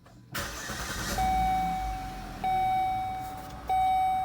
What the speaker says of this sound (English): So we're going to start the car, see if the check engine light's gone.